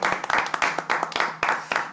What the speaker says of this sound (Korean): 우리가 살짝 박수 한번 쳐드릴까요?